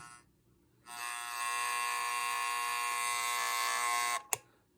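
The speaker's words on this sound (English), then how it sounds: "I don't know why I like that stupid alarm." Steady, harsh electric buzz from a Telechron Colonnade alarm clock, starting after a brief quiet moment and holding loud and continuous for over three seconds before stopping with a sharp click.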